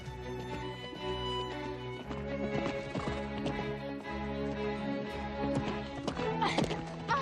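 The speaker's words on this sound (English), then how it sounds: "Just sense the horse's rhythm." Horse hooves clip-clop in a steady rhythm beneath sustained music, with a horse whinnying briefly near the end.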